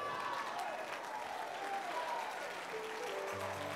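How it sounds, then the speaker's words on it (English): A church congregation claps during a sermon, steady and dense applause filling the space, with a faint tonal sound underneath. "Oh, the Christians are clapping for Jesus."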